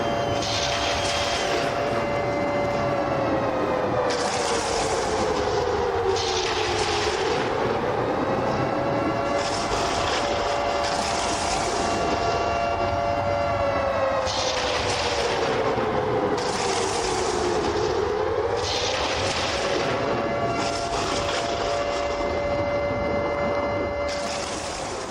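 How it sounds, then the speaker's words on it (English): A wailing siren at a Pittsburgh Roughnecks football game rises and falls in long sweeping cycles, loud and continuous, with bursts of crowd noise or horns pulsing over it. "Let the siren play."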